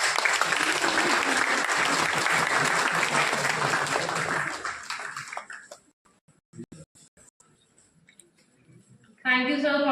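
Loud applause from the audience at a college national law conference honours the chief guest, a justice, then fades out after about five seconds into near silence with a few faint sounds before a voice begins.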